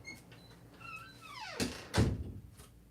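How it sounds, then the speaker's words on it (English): A door closes indoors with two soft thunks close together, the second heavier, after a light creak and faint squeaks. "let me close this door while we're waiting for this to"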